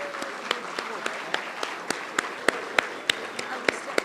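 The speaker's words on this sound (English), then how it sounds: "Let's have a round of applause for 10 years of continuous improvement" An audience at an awards event applauds steadily, with dense clapping and a few sharp, regular claps standing out above the wash, sustained throughout.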